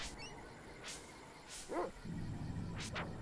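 A dog barks in the video game Secret of Evermore, with a short yip and bark standing out against low in-game background noise and soft whooshing effects.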